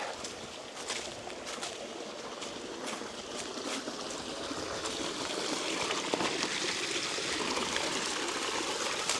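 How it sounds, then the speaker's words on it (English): Water pouring out of a full lake through outflow infrastructure toward a river, a loud, steady rushing and gurgling that swells slightly and continues without any voices. "that's how much water is leaving the lake at the moment"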